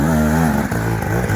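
A 2025 Beta two-stroke motorcycle engine powers over slippery rocks, loud and close, with a high buzzing drone that holds steady and then dips and surges as the throttle varies.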